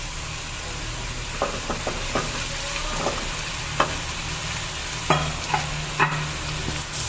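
Potatoes sizzle steadily in a pan while a utensil scrapes and clinks through them in irregular stirring strokes, close and moderately loud.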